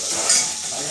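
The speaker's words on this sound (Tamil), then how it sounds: "கடுகு, கருவேப்பிலை, வெங்காயம் 3 போட்டு நல்லா தாளிக்கணும்." Mustard seeds, curry leaves and onion tempering in hot oil in a pan for a rajma gravy, giving a steady close sizzle and crackle with a faint stir at the start.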